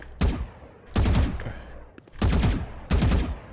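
Gunfire in a Valorant deathmatch: four sharp, loud automatic bursts, each a quick rattle of shots with brief gaps between them, close and dominant.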